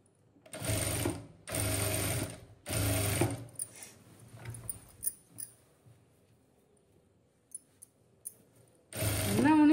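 Stitching a churidar, a home sewing machine runs in three strong bursts with short gaps between them, then goes quiet apart from faint handling clicks before another run starts up.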